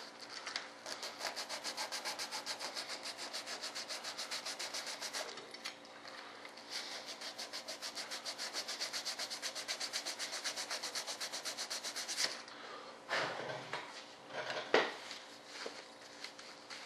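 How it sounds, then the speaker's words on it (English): Repeated rapid back-and-forth scuffing strokes sand the surface of an RC F-105 Thunderchief jet model to remove wax film, a fairly quiet, steady rasp with brief pauses and some handling noise near the end. "Scuff it up a little bit."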